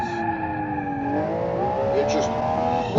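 A race car accelerating on a track, its engine holding a high whining tone that climbs through the gears, continuous and fairly close, ending with a short sharp burst.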